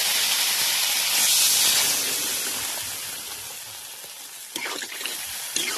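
Hot fried spice masala for a fish curry hisses and steams loudly as water is poured into the pan, the sizzle easing over a few seconds before some stirring clatter near the end.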